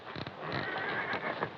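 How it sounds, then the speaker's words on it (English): Several horses neigh and whinny nearby in an Old West setting, with scattered hoof clatter beneath the calls. "Wonder what's wrong with them horses."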